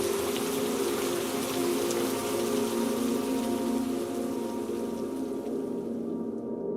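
Rain falls steadily on a rainy day, a dense continuous hiss of drops at even loudness that thins out slightly at the very end.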